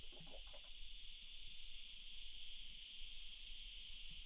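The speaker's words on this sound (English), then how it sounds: "Just the sound of crickets" Crickets chirp steadily in the hot Spanish countryside, a faint, continuous high-pitched trill with a few brief softer sounds near the start.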